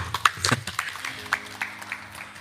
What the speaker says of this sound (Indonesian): Supaya semangat, kita tepuk tangan dulu dong